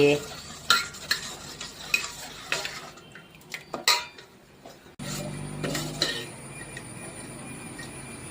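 Wheat dosa batter goes onto a hot pan, first with scattered ladle clinks and scrapes against the metal, then a steady, close sizzle as it cooks.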